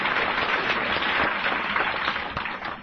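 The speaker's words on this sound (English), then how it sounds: "Are you clapping for me?" An audience at a Tri State Roundup gathering in Laughlin, Nevada claps in a broad wash of applause that holds steady, then thins and tapers toward the end.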